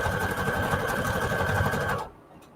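A sewing machine runs a steady, rapid straight stitch at its longest setting, sewing lace and fabric scraps onto a junk journal tag, then stops abruptly near the end, leaving near silence.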